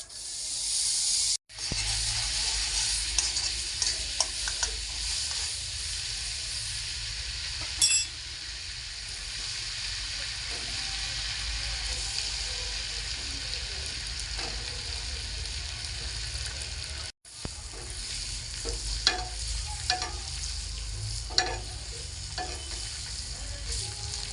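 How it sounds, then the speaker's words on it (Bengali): Paneer fries in melted butter in a hot kadai over a medium gas flame, a steady, close, dense sizzle that runs continuously with occasional spatula scrapes and two brief dropouts. "কড়াইয়ের মধ্যে বাটার দিয়ে দিচ্ছি পনির ভেজে নেওয়ার জন্য।"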